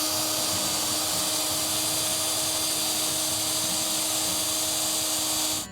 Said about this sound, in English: take your 1/2" drill bit and drill through them about where the middle is